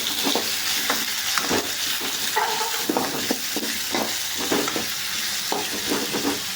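Onions, chillies, ginger and garlic sauté in a pan with a loud, steady sizzle, while a spatula scrapes and stirs in repeated close strokes.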